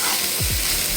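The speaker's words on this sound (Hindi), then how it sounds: "और बस इसको छौंक देंगे" A chopped onion is tempered in hot oil in a pan, giving a loud, steady, close sizzle with a brief scraping stir partway through.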